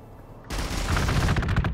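In the Warhammer 40k Gladius strategy game, playing as Orks, silence gives way to a sudden burst of rapid gunfire that rattles on for over a second.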